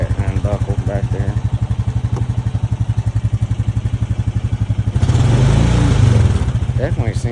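A 2025 Honda Rancher 420 ATV engine idles steadily after a cold start in 15–26°F weather on 0W-30 oil, a loud, close, continuous putter with a heavier burst around five seconds as it revs briefly, with voices talking over it.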